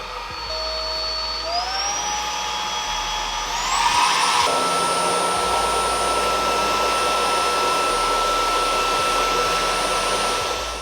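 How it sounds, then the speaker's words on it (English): A ROIDMI X20 cordless car vacuum cleaner runs steadily and loudly with a whining motor tone that rises in pitch twice as it steps up through its power modes, then holds a strong constant hum. "We have the ROIDMI X20 vacuum cleaner."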